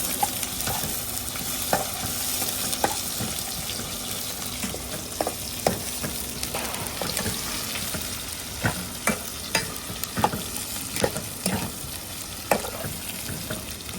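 Onions and curry leaves fry in a pan for an Agri-style liver masala, a continuous sizzle with regular scraping and tapping of a spatula, close and unbroken by speech.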